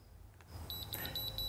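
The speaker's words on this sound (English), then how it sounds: "and you get your four more beeps." A series of sharp, evenly spaced high electronic beeps from a Hunter ROAM remote receiver, about eight in quick succession, over a low background hum.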